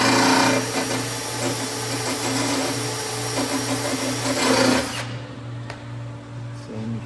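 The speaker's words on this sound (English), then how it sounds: "Now I'm going to go ahead and drill this and put this cleco in" A power drill bores a hole for a cleco fastener while building a custom boat center console, running as a loud continuous whine for about five seconds, then cutting off and leaving a low background hum.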